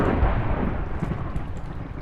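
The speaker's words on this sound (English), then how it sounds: "I don't like that I can hear the thunder from down here." Thunder in a Minecraft-style hardcore survival game rolls as a dense, heavy rumble, heard from underground. It stays loud and continuous, with no talking over it.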